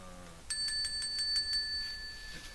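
A bell rings in a quick rapid series of about eight bright metallic dings, fairly close and clear, then its ringing tone fades out with no talk over it.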